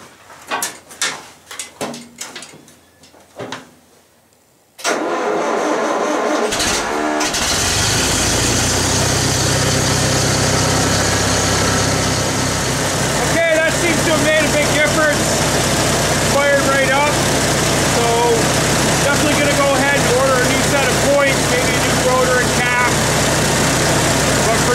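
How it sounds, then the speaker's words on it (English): An IH 354 tractor engine cranks and catches after ignition repairs, then settles into a loud, steady idle close by. The running engine carries on throughout, with a few brief knocks and clatters over it. "put everything back together with the rotor and the cap and see if we can get the engine to start"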